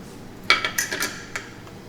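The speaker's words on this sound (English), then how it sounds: "then we will just put the lid on and then let them to cook in here" A metal pressure cooker lid is set down and fitted onto the pot, one bright clang followed by a few lighter scraping clinks, close and brief.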